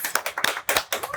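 A studio audience claps in quick, loud bursts close by, brief and uneven, with no speech over it.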